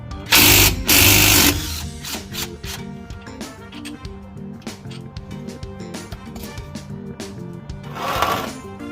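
A cordless 3/8-inch 20-volt XT impact tool from Harbor Freight removes axle bolts on a GM 8.2-inch 10-bolt axle of a 1969 Buick Skylark, giving two loud bursts of rattling hammering, then clicks and ratchet-like mechanical noises up close.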